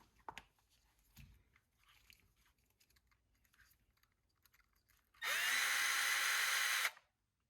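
Power drill driving bolts on a Traxxas TRX4M RC crawler, a close, loud whirring burst of under two seconds after quiet handling clicks and taps.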